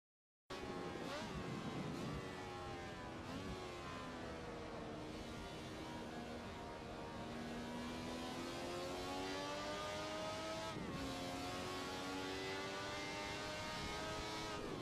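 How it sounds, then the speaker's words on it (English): The Ferrari 312T Formula 1 racing car from Niki Lauda's 1975–1980 era, driven in the racing game Assetto Corsa, revs loud and continuous with its engine pitch rising and falling through gear changes, with no talk over it. "This is the Ferrari 312T. It was raced by Niki Lauda in 1975 to 1980."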